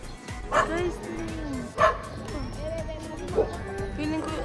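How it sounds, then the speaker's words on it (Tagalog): Several dogs bark and yip upstairs in sharp, loud bursts with a few whimpering tones between them, heard over nearby people talking. "May mga aso sa taas."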